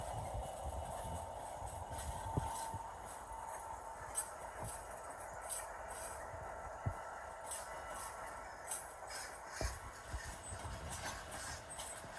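A Class 319 electric train rumbles past at a distance at Preston station, with a steady electric hum and faint rhythmic clacks of wheels on the rails.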